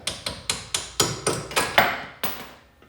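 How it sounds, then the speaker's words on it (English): A hammer strikes a BMW E36 M3 strut mount assembly about ten times in a fairly steady rhythm, sharp ringing metal blows up close, the last one fading out. "So just a hammer."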